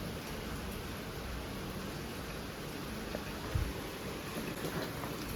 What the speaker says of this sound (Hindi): हल्की हल्की बूंदी बूंदी पड़ रही है, बारिश हो रही है